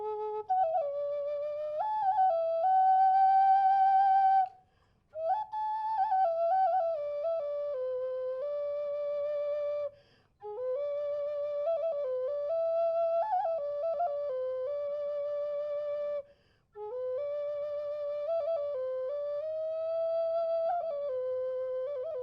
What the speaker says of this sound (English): Indian music, Native Americans.